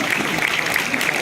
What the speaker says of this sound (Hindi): एक ग्लोबल स्टेज है तो जोरदार तालियां होनी चाहिए।